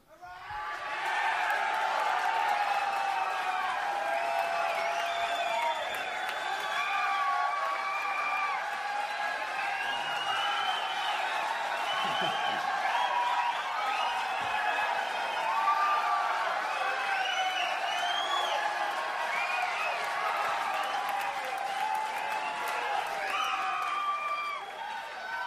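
A live concert crowd at a 1978 show at The Bottom Line claps and cheers, a continuous roar of applause threaded with whoops and shouted voices that stays full and even throughout.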